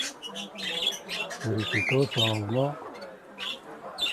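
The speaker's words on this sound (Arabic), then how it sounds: "هنا كاين بيريكيتوس" Parakeets in a Tangier bird supply shop squawk and chirp in quick bursts, close and fairly loud, mixed with other shop birds and someone talking over them.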